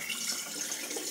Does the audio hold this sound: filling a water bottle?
yes